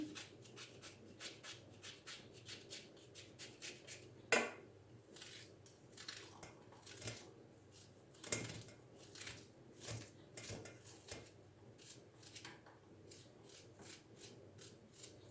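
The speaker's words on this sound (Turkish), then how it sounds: "iki tane küçük orta boy küçük soğanım var. Şimdi bunları doğrayacağım." Steady knife chopping of small onions by hand on a cutting surface, with irregular taps and scraping sounds, fairly close, plus a few louder clinks in between.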